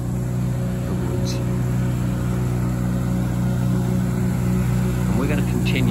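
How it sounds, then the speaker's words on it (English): A truck engine runs nearby at a steady, loud idle-like drone with a constant low hum, continuous for the whole stretch, with faint voices briefly audible underneath. "Let me get past the truck."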